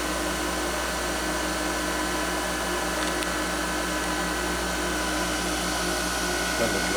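A used 2015 Cleveland CNC bed mill with Centroid control runs its spindle at 3,500 RPM, heard close up as a steady, even mechanical whine and hum that holds without a break.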